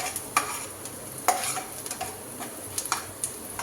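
Onions sizzle in a pan while a utensil stirs them, with scattered sharp scrapes and clinks against the pan over a low, steady frying hiss.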